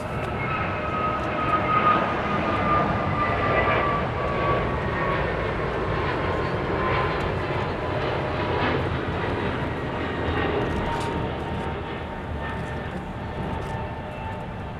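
An American Airlines A321neo jet departs LAX bound for Philadelphia, its engines a steady, loud broadband roar that holds throughout without voices.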